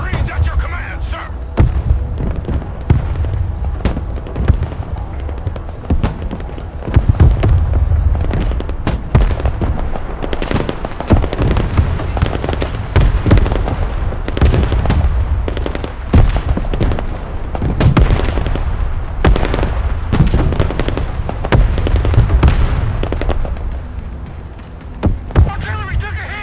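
Marines' gunfire and explosions in Broken Arrow, a loud continuous battle of rapid shots, cracking blasts and heavy booms, with radio-style voices talking intermittently over it.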